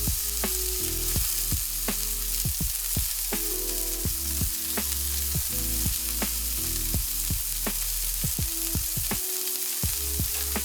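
Burger patties frying in a pan for a homemade double cheeseburger, a continuous close, loud sizzle broken by repeated spatula scrapes and taps.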